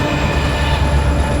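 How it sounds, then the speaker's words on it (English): A freight train hauling car-carrier wagons passes in American Truck Simulator, set in Wyoming near a rail bridge and tunnel; a steady, loud rumbling roll with rail clatter fills the whole moment, with no talking. "There's that train. It's gonna go through the tunnel."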